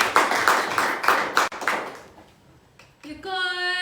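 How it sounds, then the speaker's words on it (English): A small audience claps for a reader at a Western Sydney writers' showcase, bright applause that fades out after about two seconds, followed by near quiet and then a sustained tonal sound. "So can everybody give a round of applause for our first reader,"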